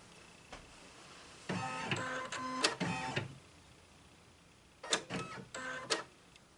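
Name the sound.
embroidery machine scanning the hoop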